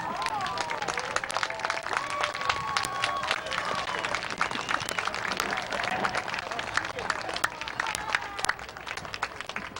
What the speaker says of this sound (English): Give a round of applause again to Hurley Williams.